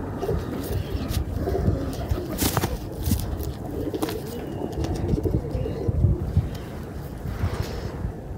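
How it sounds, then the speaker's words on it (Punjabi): Sialkoti pigeons cooing softly, a low repeated murmur held steadily over a breezy outdoor wind rumble, with no talk. "ਸਿਆਲਕੋਟੀ ਕਬੂਤਰ ਬਹੁਤ ਘੱਟ ਵੇਖਣ 'ਚ ਆਉਂਦੇ ਨੇ"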